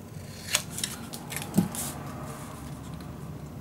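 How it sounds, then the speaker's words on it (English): Scissors snip the corner of Ciao Bella patterned paper for a travel folio craft project, giving a few quiet, crisp cuts and rustles close by with no talk. "First, going to cut this corner."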